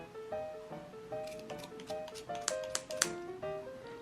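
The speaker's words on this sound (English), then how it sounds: "So we're just going to cut these loops." Quiet, repeated snips of scissors cutting through yarn loops for a pom-pom, a series of small crisp clicks in an uneven rhythm with faint tonal squeaks.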